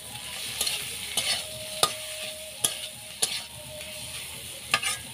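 Potatoes frying with turmeric, cumin and chili powder, a steady close sizzle broken by sharp scraping stirs at irregular intervals, with no talking.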